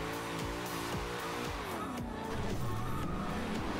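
A car oversteers and drifts in Forza Horizon 2, its engine revving in rising and falling harmonic sweeps with tire noise underneath, loud and close throughout without speech.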